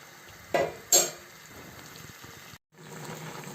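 Spinach omelette cooking in a pan, a faint steady sizzle broken by two brief clatters of stirring early on.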